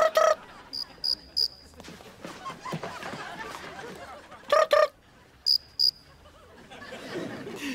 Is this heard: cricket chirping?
yes